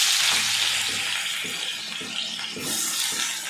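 Small diced potato cubes hit hot oil in a pan, a bright, steady frying hiss with a few soft stirring knocks, the sizzle swelling again toward the end.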